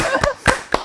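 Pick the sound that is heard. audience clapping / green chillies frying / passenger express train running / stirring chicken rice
audience clapping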